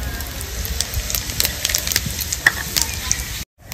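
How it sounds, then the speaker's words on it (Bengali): Bay leaves, a whole dried chilli and cumin seeds sizzle in hot mustard oil, a close, busy crackle of frying with small pops throughout, cut off by a brief silence near the end. "ফোড়নে দিয়ে দেবো 2টো তেজপাতা, একটা গোটা শুকনো লঙ্কা, গোটা জিরে"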